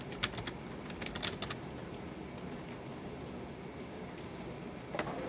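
Computer keyboard keys pressed during a basic HTML lesson: quick clusters of light clicks near the start, then quieter steady background, with one more burst near the end, no talking.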